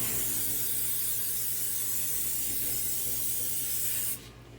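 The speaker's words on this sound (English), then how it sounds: "I'm going to go ahead and spray the tops with olive oil" Olive oil from a spray can hisses in one continuous burst over the tops of English muffins, close and fairly quiet, then stops abruptly near the end.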